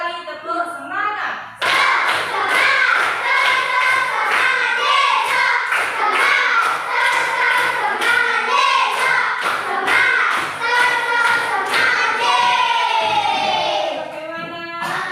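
A fifth-grade class claps together in rhythmic spirit claps, sharp group claps in a quick, steady repeating pattern for about twelve seconds, with children's voices chanting along.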